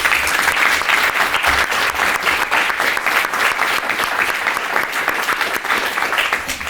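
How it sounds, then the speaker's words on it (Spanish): An audience applauds the panel speakers at the close of a public policy discussion, a sustained, even burst of many hands clapping that fills the room throughout. "un aplauso a nuestros ponentes"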